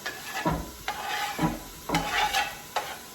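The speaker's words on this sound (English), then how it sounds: "There's that sizzle." Onions and garlic sizzle loudly in a hot pan, punctuated by several sharp stirring scrapes at irregular intervals.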